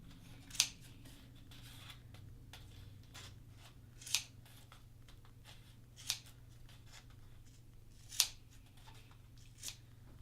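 Scissors cut yarn fringe on a boho basket, sounding as a series of crisp snips spaced about every two seconds with faint rustling of yarn between them, close and quiet with no talking.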